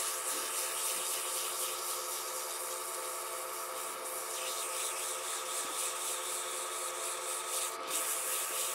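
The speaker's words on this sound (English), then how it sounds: "I start sanding at 400 grit." Sandpaper at 400 grit rubs steadily against a spinning cholla cactus pen blank on a lathe at reduced speed, a continuous hissing scrape over the hum of the machine.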